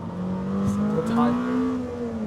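A Lamborghini Temerario's engine revs hard toward 10,000 rpm inside the cabin, a steady rising tonal wail that holds strong throughout.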